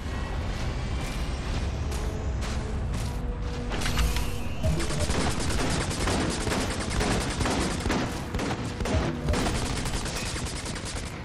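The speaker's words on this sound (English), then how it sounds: "Check in with Sergeant Reyes at the firing range to assist with weapons training." Gunfire crackles at a firing range in a military video game, with dense, continuous volleys and rapid automatic bursts that stay loud throughout and thicken after a heavy crash partway through.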